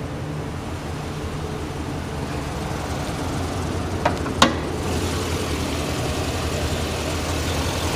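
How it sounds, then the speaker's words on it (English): The 6-liter Vortec V8 in a 2012 Chevy Silverado 2500 HD idles steadily and smoothly, a constant low engine hum heard close with a couple of faint clicks, no talking. "Here's your 6-liter Vortec"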